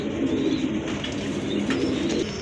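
A big pair of smoking pigeons coos softly and continuously at close range, low rolling calls over faint background noise.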